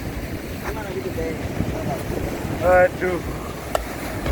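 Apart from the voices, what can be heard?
ocean waves at Pandawa Beach, Bali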